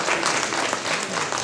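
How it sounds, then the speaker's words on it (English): An audience applauds people who came up on stage at an event, a steady dense wash of clapping that fills the whole stretch evenly without voices. "Please give a big round of applause for everyone that came up on the stage."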